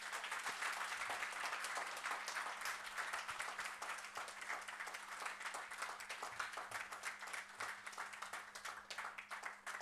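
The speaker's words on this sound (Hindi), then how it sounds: "सभी के लिए जोरदार ताली" An audience at a training camp applauds the organizers, a dense, steady round of clapping from many hands, fairly faint and continuous for about ten seconds with no talk over it.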